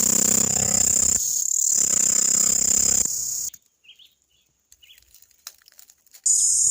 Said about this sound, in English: This is one of several species of cicadas found in the island of Jamaica.